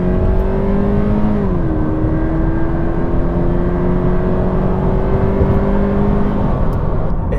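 A Toyota GT86 with nearly 200 horsepower pulls hard on a bypass, its engine note climbing in a steady, loud drone from inside the cabin, with a brief dip as it shifts gear before rising again.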